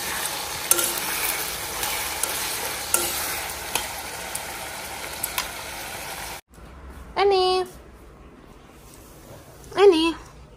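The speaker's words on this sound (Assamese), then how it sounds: "তাৰ পাছত মই এতিয়া বনাই আছো মাংস।" Meat cooking in a home kitchen pan gives a steady frying sizzle with scattered stirring scrapes and clinks, broken by a short pause, then two loud close bursts of a tonal, whistle-like sound.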